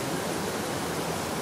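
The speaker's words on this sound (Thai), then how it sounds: "เสียงน้ำไหลดังหน่อยเนาะเป็นลำห้วยลำธารนะครับ" A forest stream flows at night in the dry season, a brief steady hiss of running water, even and fairly close, with nothing else audible.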